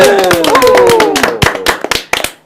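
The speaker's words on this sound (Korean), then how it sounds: "박수 한번 치고" A small group claps hands together at a Korean political broadcast, a burst of sharp uneven claps under brief overlapping voices and tones early on, then thinning to a few scattered loud claps.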